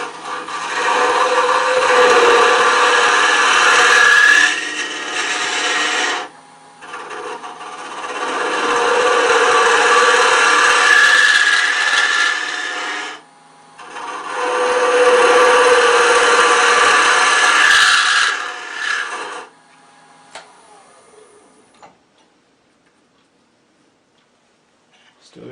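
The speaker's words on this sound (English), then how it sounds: "Not unusual to get a little chatter with a 3/8 inch spindle gouge on these boxes." A green wood box is turned on a lathe with a 3/8 inch spindle gouge. Three long, steady cutting passes of scraping and rubbing are separated by brief pauses, then the sound fades to near silence.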